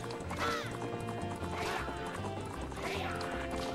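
Racing horses in The Legend of Zelda: Majora's Mask gallop with a steady clip-clop beat under game music, punctuated by three loud neighing whinnies.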